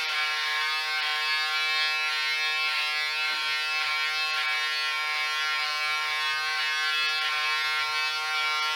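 A Philips Norelco Series 7000 vacuum beard trimmer runs steadily on its turbo setting, a close, loud, continuous high-pitched electric buzz with no pauses and no talking.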